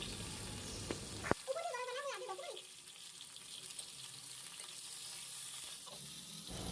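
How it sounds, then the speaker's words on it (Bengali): Pieces of pointed gourd (potol) fry in hot oil with a steady, soft sizzle that follows a brief voice and a sharp clatter near the start. "এখন পটলগুলো দিয়ে আমি কিছুক্ষণ তেলের সাথে ভেজে নিব"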